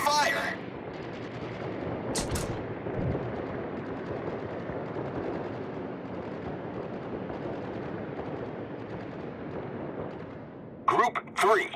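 Gunfire in World of Warships, a dense continuous rumble of distant naval guns and bursts, with brief sharp shots near the start and end and radio voice callouts over it.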